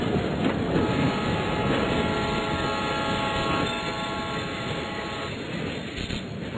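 Trains in the video game Train Station, heard as a steady rolling rumble with tonal horn-like overtones, loud and continuous with a slight fade toward the end and no speech over it.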